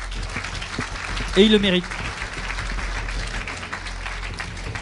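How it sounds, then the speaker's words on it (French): An audience at the Pierres d'Or 2012 property-developer awards ceremony applauds, a soft sustained patter beneath someone speaking French into a microphone. "On les applaudit tous les 5."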